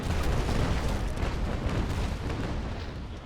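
Cannon fire from sailing warships in the Naval Action Legends video game, a dense rumbling barrage of booms rolling continuously and loudly before easing slightly toward the end.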